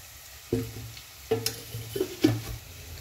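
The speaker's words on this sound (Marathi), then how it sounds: "इथे तवा तापायला ठेवलेला आहे, त्याच्यात 2 चमचे तेल टाकते" Oil heating on a griddle pan for roasting masala in Konkani-style chicken cooking. Quiet background hiss broken by three or four brief bursts of sizzle with utensil clinks, close by.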